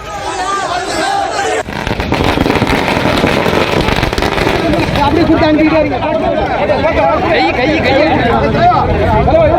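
Rapid crackling bursts of firecrackers go off continuously outdoors at a lawyers' celebration, dense and loud, mixed with crowd chatter and voices.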